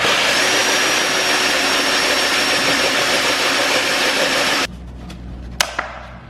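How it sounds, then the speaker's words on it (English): A loud, steady grinding whine of a hole saw cutting through plastic, holding for several seconds, then abruptly stopping, followed by a few faint clicks and knocks. "So now that we've hole sawed it out"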